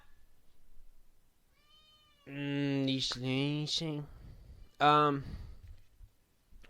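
A cat lets out a long drawn-out meow, then a shorter loud meow after a pause, close by with faint background noise.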